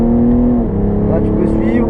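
Race car accelerating hard on the Nürburgring Nordschleife, a steady loud engine drone with rising harmonics heard from inside the car, with voices talking over it throughout.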